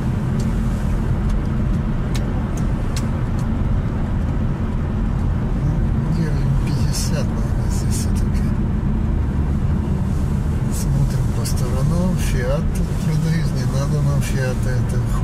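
Steady rumble of a car driving along a road into a small town, a constant low engine and road drone heard from inside the car, with people talking over it.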